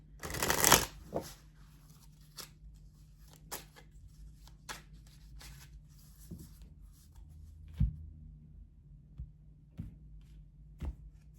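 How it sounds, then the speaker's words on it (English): Tarot yes/no oracle cards being handled and shuffled, a quick riffle at the start followed by sparse soft taps and card slides, close and quiet with no talking. "we are going to take out one of these yes/no oracle cards now"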